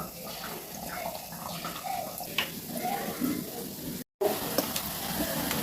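Purnam boorelu, sweet-filled dough balls, dropped into hot frying oil, giving a steady broadband sizzle and bubbling with small splashes, loud and close throughout, with a brief dropout near the end.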